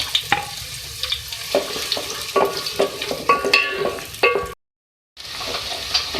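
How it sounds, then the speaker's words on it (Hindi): Onions sizzle and crackle in hot oil, with occasional stirring scrapes, steady and close, briefly cutting to silence before the frying resumes. "सबसे पहले मैं इसमें 2 मीडियम साइज़ के ऑयल में प्याज ऐड करूँगी, इसको फ्राई करेंगे"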